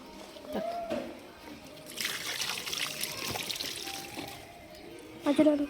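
Water trickles and splashes in short bursts, poured from a hand onto a plant, with people talking nearby.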